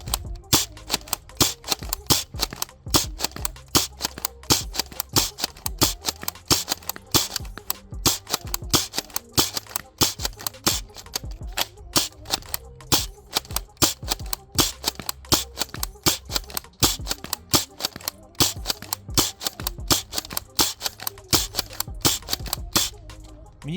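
Rapid, sharp snapping shots from a Nexus Pro X spring-powered foam dart blaster firing about 200 fps darts, dense bursts of loud clicks and thwacks repeating steadily throughout with no talking.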